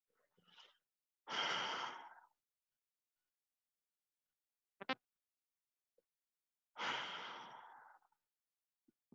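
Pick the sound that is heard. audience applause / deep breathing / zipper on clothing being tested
deep breathing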